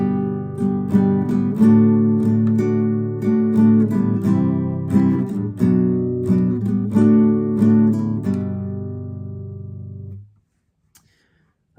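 A guitar picked with a pick plays the intro of a song as a flowing, arpeggiated pattern of ringing notes, close and clear, then rings out and fades to silence.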